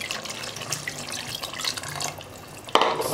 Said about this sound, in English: Okay, so I'm adding water here.